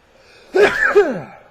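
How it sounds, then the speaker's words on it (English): A single loud, close sneeze with a voiced, wavering cry, ending in a short falling exhale. "I feel a sneeze coming."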